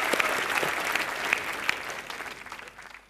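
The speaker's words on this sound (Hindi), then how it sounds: "भट्ट साहब के लिए एक बार जोरदार तालियां." Studio audience at a Hindi live comedy show applauding steadily, a dense wash of clapping that holds for a few seconds and then starts to thin out.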